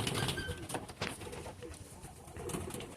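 Short-beaked pigeons cooing softly amid a busy mix of bird calls and fluttering, steady and continuous throughout.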